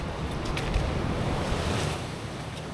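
Gentle Atlantic surf on a quiet day along an oceanfront boulevard in Puerto Plata, a soft continuous wash of small waves with light wind noise, moderately far and steady.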